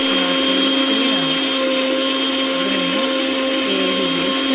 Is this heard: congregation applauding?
no